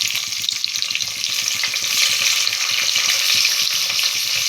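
Onion and green chillies frying in hot oil make a steady, loud, broadband sizzle with continuous crackle and spatter, with no voices and no pauses.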